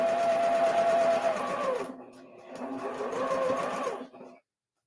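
A sewing machine stitches curved seams in two close, steady runs of rapid mechanical whirring, pausing briefly between them and stopping at the end.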